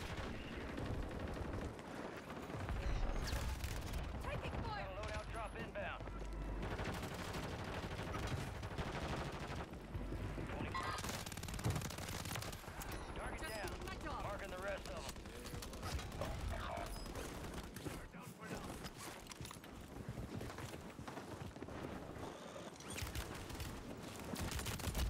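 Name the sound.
gunfire from the video game Warzone 3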